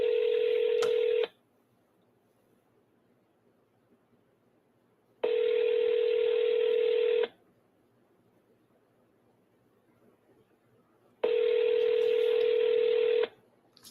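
A telephone call rings through and is forwarded to voicemail: three evenly spaced ringback tones, each about two seconds long, sound clearly against near silence.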